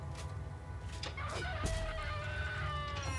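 A rooster crows in the Divinity: Original Sin video game, its strained, rising calls and clucks repeating over a low steady background rumble, moderately close and without talk.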